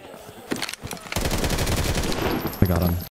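Gunfire in the video game Aftermath, a sustained rattle of automatic shots after a couple of single cracks, loud and near, ending in a heavier hit.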